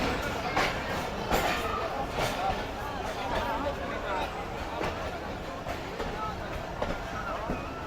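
The Khyber Mail train pulls slowly out of Rahim Yar Khan railway station, a low continuous rolling rumble with faint rhythmic clacks and knocks, heard from inside the train beneath a murmur of passenger chatter.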